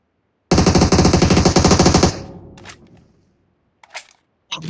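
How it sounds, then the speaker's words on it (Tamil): Automatic gunfire in a shooter video game during an esports match, a loud, rapid burst of shots for about a second and a half that trails off, followed by a few faint distant pops. "ஏன்டா இப்ப சுட்ட?"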